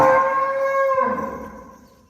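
A single loud, drawn-out cow moo at a dairy farm near Amritsar, Punjab, steady and close, tapering off into a lower fading tail.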